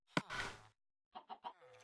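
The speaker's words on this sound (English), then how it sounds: "Oh hey, it spawned a chicken too." A Minecraft chicken clucks in short, distinct bursts: one longer squawk up front, then a quick run of three or four clucks after a short gap, close and clear with no talk.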